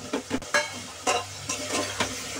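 Potatoes tipped into a pan for pav bhaji and stirred in, a series of rhythmic scraping pushes over a low, steady frying hiss, close up and loud.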